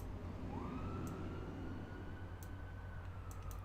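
An emergency vehicle siren sounds in the city-building game Cities Skylines, a faint wailing tone rising then holding steady over a dense low rumble of city traffic ambience.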